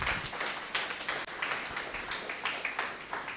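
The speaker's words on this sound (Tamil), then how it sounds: "நல்ல கரகோஷம் கொடுக்கலாமே" Audience claps for a guest called on stage at the first annual day ceremony of a Tamil school event, a steady patter of many hands at moderate distance, fairly quiet and continuous throughout.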